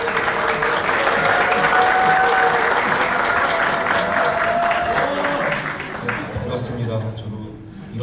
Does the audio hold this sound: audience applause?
yes